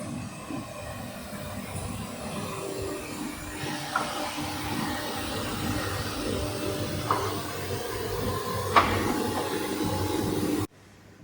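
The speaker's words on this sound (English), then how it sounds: "So this is the production facility. The beautiful Krah machine." A Krah pipe machine runs steadily inside a production facility, a low continuous mechanical hum and hiss with occasional faint clanks and knocks, ending abruptly.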